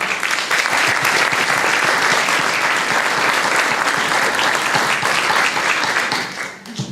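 A board of education meeting audience applauding, dense steady clapping from many people that holds loud and even, then tapers off at the end.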